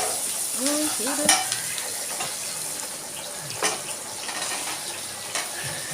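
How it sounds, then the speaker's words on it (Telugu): Ginger garlic paste frying in a pan, a soft continuous sizzle broken by occasional clinks and stirring scrapes, with a few faint whistling tones early on. "పావు టేబుల్ స్పూన్ అల్లం వెల్లుల్లి పేస్ట్ వేసుకొని పచ్చి పచ్చి వాసన పోయే వరకు వేయించుకోవాలి"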